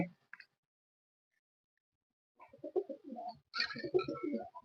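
Domestic pigeons coo indoors, with a male calling repeatedly in soft throaty bursts after a quiet stretch, close by and moderately loud.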